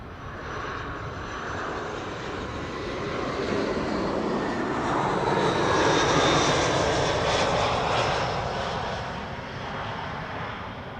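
An airliner arriving on the Kaagbaan runway at Amsterdam Schiphol Airport fills the scene with a broad, continuous engine roar that swells to a peak midway and then slowly eases, loud and steady throughout.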